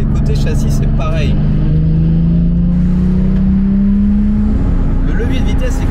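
A Porsche 997 GT3 RS's engine and gearbox hum loudly from inside the car, a steady droning note that rises gradually in pitch, with someone speaking over it.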